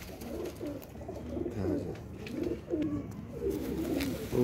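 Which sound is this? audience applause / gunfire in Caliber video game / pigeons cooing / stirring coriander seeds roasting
pigeons cooing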